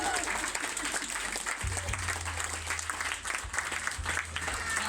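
An audience claps steadily and loudly at an evening poetry and soul music event, continuous applause with a low hum underneath.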